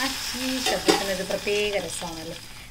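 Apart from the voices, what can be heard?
mustard seeds, chilies and curry leaves frying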